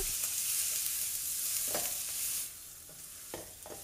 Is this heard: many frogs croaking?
no